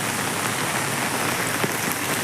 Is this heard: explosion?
no